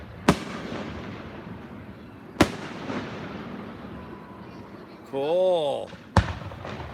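Fireworks burst over the Erie Canal at Baldwinsville, New York, with three sharp, loud booms spaced across the scene and a warbling whistle rising just before the last one. A person speaks briefly.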